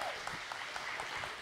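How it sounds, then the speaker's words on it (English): A church audience applauds a band, a dense, steady patter of clapping throughout the short burst with no voices over it. "Round of applause for this band."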